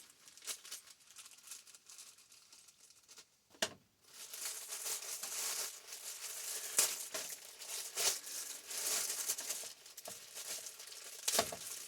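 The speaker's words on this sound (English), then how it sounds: "I'm using a serrated blade knife." A serrated blade knife saws and slices through plastic and cardboard packaging around a titanium hot tent stove, giving faint, close crinkling and rasping cuts with a few sharper snaps and no talking.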